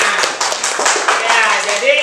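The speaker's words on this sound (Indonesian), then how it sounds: "Ya, berikan tepuk tangan." A classroom group claps briefly, a quick spatter of hand claps for about two seconds, fairly close and lively, with some voices underneath.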